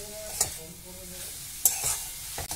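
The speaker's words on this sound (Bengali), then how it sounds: "ধনে পাতা কুচো দিয়ে ভালো করে নাড়াচাড়া করে মিশিয়ে নিচ্ছি" Radish chechki with chopped coriander stirred in a frying pan, with a soft sizzle, a few sharp spatula scrapes and clinks against the pan, and no talking.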